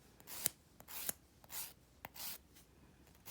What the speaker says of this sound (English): we're just gonna simply file this stuff down